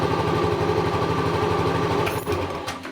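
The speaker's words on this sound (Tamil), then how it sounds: "மோட்டர் சைக்கிள் ஸ்டார்ட் ஆகுது" A motorcycle engine idling steadily right after being started, with a close, loud, rhythmic mechanical chugging that holds even, then sputters and shifts near the end.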